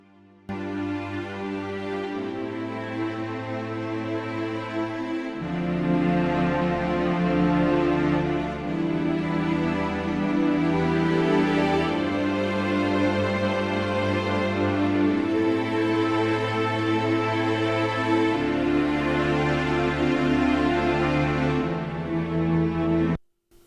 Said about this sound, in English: So I added a fast cello from SRX Orchestra